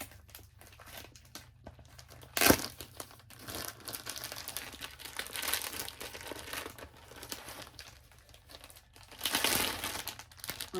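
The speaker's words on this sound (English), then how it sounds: "Let me get it out of the plastic for you." A comic book is pulled from double plastic sleeves, giving close crinkling and rustling plastic with a sharp crackle early on and a louder burst of crumpling near the end. There is no talking.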